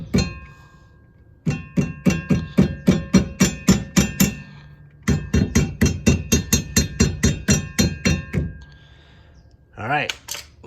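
Hammer blows on a seized rear spring plate of a Porsche 911, metal on metal: two quick bursts of about a dozen sharp, evenly spaced ringing whacks each, close and loud, then a brief scraping.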